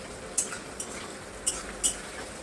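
Onions frying in a pan for homemade chilli chicken give a soft, steady sizzle, broken by a few sharp clinks of a utensil stirring against the pan.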